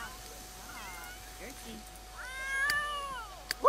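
A cat in The Sims 3 meows in a drawn-out, rising and falling cry near the end, after softer earlier mews, with game ambience and a German-speaking voice talking over it.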